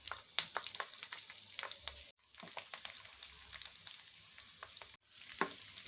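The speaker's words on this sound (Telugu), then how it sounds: "చాలాసేపు నూనెలో వేపాలండి, బాగా ఉడికిపోతుంది" Garlic cloves frying in oil for a spicy garlic chutney, a steady close sizzle broken by two brief gaps, with frequent scrapes and clinks of a spatula stirring through the pan.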